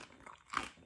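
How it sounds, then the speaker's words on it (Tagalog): A single crisp bite into crunchy deep-fried crispy pata pork skin, a short, quiet crackle heard close up with faint chewing. "Tikman natin. Sausaw natin. Isausaw natin. At pakinggan kung malutong ba."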